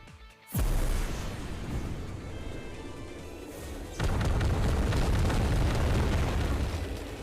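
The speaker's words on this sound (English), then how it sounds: "All destroyers, aim technomagnetic cannons at the barrier." Technomagnetic cannons from the video game Twisted Wonderland fire at a barrier: a sudden loud boom bursts in, holds as a roaring rumble, then a second heavier blast hits and sustains a dense, thunderous roar to the end.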